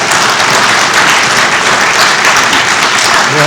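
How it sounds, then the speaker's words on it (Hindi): Dense, loud applause from a theatre audience at a play, steady and sustained throughout without a break. "कम से कम एक हाथ बार ताली बजा दीजिए।"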